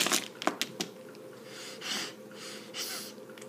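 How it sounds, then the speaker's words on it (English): Close, faint sniffling through the nose, several quick sharp snorts followed by a couple of longer breathy inhalations, alone over quiet room tone with no talk. "Excuse my sniffling,"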